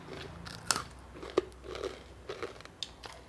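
Crispy pork rind bitten and chewed up close, sharp crunchy bites followed by softer irregular crackling chews, with no talk over them.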